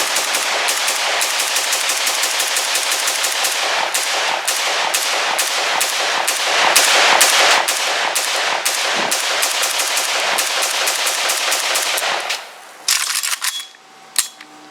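An RPK74 light machine gun chambered in 5.45x39 fires long sustained automatic bursts, very loud and close, a rapid steady stream of shots for about twelve seconds before stopping, followed by a few brief clicks.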